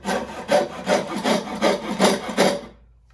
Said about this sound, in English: I'm going to keep sawing following this line